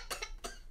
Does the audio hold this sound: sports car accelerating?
no